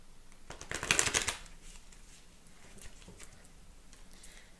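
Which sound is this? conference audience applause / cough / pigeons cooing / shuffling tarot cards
shuffling tarot cards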